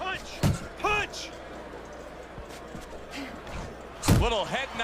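Punches thud in a boxing video game, a few heavy slams spaced across the round, each landing with a sharp low impact while a commentator's voice talks loudly over them.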